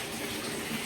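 Hot water gushes steadily into a bathtub, a loud continuous rushing stream with no voices over it.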